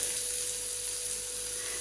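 Onions sizzle in a pan for a masala omelette, a steady close hiss of frying that carries on without break or talk.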